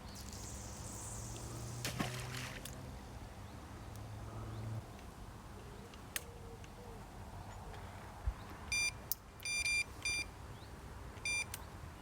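Electronic carp fishing bite alarm at a specimen lake gives short bursts of high beeps, several quick clustered tones, over faint outdoor ambience with a brief low voice early on.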